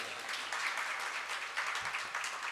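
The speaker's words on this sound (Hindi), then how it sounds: "ताली बजा लो" Audience at a Jain temple festival event clapping together: steady, dense applause from a crowd, moderately distant, continuing throughout without pause.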